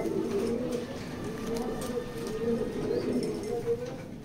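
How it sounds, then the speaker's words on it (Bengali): Racer pigeons coo steadily and close by, with low rolling calls repeating throughout, one slightly overlapping another, and no talk. "লাল চোখের কবুতর"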